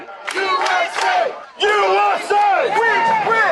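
A crowd chants "USA!" in a loud rhythmic chorus, with raised voices cheering between the repeated chants.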